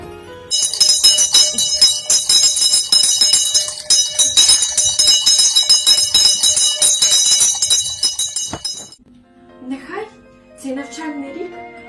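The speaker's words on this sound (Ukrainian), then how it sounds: "Дзвони наш перший дзвоник і пам'ятай, нам тільки мирне навчання дай." A school's first bell rings for the first day of classes on 1 September, a loud, continuous bright jangling that lasts about eight seconds, then stops abruptly as a voice begins speaking.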